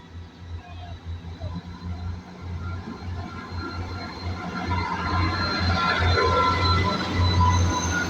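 A train rumbles past a UK level crossing on a service to London Waterloo, its steady low drone building louder and closer over the final seconds.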